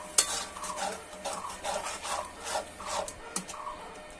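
Mutton mince with ginger paste and spices is stir-fried in a pan, heard as a rhythmic series of close scraping, rasping strokes of a spoon over a faint sizzle, with no one speaking.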